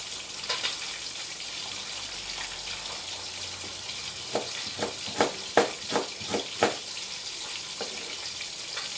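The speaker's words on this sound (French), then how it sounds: "je vais mettre tout de suite dans l'huile" Strips of salmon fry in hot oil with a soft steady sizzle, and a run of sharp spattering pops and clatters comes near the middle as more pieces go into the pan.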